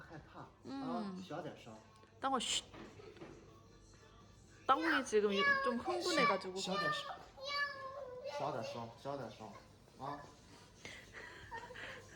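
A cat meows a few times amid a toddler's chatter and giggles at a cat cafe, close by, with talk running through most of the clip.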